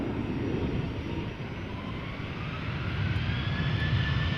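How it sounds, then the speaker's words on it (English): Boeing 737-900 jet airliner holding at the runway threshold at Amsterdam Schiphol, a steady broadband engine roar with a faint rising whine, moderately distant and continuous, no talking. "a 737 has arrived on the runway threshold"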